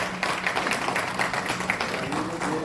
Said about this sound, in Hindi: जिला अध्यक्ष को आप तालियों से सम्मान करके उनका उत्साहवर्धन करेंगे